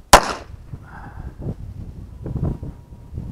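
Single sharp gunshot from a Smith & Wesson Model 422 pistol, loud and close, its crack fading into a brief outdoor tail with faint background noise and no talk.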